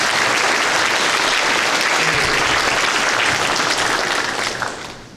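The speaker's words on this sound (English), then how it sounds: "And we give them a round of applause." A dense, steady round of applause from a crowd honouring city officials at a police reserve academy graduation ceremony, loud and continuous before tapering off at the end.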